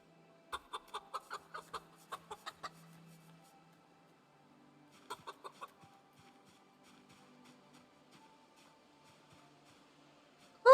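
Chickens in the video game Project Zomboid give quick bursts of rapid clucking, two short clusters of sharp repeated calls separated by near silence, faint overall.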